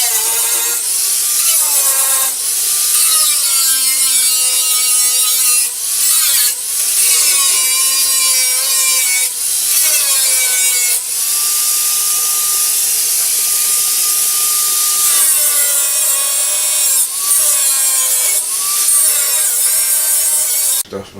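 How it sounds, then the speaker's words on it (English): Angle grinder cleaning up the metal edges of a spring bucket in the wheel well sheet metal during a car restoration, a loud, continuous whining grind with pitch dips and surges as it bears down, alone without talk. "So I just got to address this with a grinder and clean it up a little bit."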